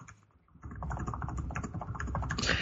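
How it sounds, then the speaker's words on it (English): Typing on a computer keyboard, a rapid run of close, crisp key clicks starting after a brief quiet moment and continuing steadily to the end, with no talking. "That was me typing."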